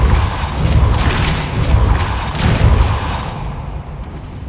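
A Depulso force spell cast in Hogwarts Legacy, heard as loud booming thumps with whooshing bursts, two or three heavy impacts over a few seconds that fade toward the end.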